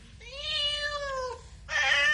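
A cat gives a long, drawn-out meow with a falling pitch, followed by a brief pause and a second, brighter and shorter cry, both close and clear over a quiet background.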